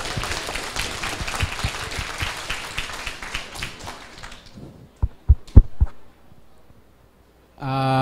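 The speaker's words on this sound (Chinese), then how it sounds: "请大家以热烈掌声欢迎" Classroom audience applause welcoming a lecturer to a public policy and budget class, dense clapping for about four seconds that thins to a few last claps, then fades into quiet.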